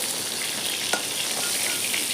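Katla fish sizzling in hot oil in a home kitchen, a dense steady crackle and hiss with one brief sharp pop, close and loud with no talk.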